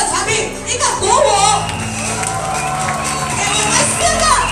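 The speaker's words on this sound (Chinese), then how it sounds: "给我们四个能够复活的产品一个感恩的掌声" Audience members stand and cheer at a product event in Penang, a loud, sustained crowd roar of shouting and cheering voices filling the whole stretch.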